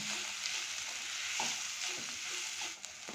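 A chicken pasta mixture sizzles in a pan as a little turmeric powder is stirred in, a continuous frying hiss with soft scraping and clinks from stirring.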